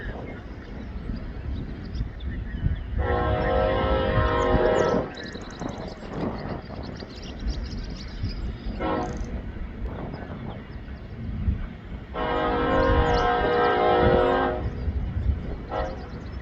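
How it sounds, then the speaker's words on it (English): A long Norfolk Southern grain freight train rolls past on an elevated curve in Vermilion, Ohio, its steady wheel rumble broken by two loud, sustained horn blasts, one early and one later, with no talk. "Nice long grain train here."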